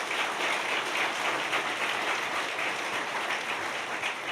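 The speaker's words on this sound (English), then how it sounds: "Let's give yourselves another round of applause to get this celebration started." Audience applause at an annual public service award ceremony, a dense, even wash of many hands clapping, sustained and fairly loud throughout with no talk over it.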